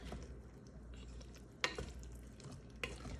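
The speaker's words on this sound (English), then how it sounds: "But give it a stir" Red lentil stew (miser wot) cooks in a pot as it is stirred, a faint steady bubbling sizzle with a couple of soft spoon knocks against the pot and no talking.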